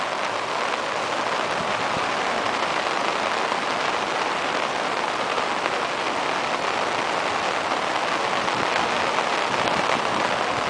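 Rain falls steadily on Santos beach, a dense, constant hiss of drops that holds evenly throughout with no talking.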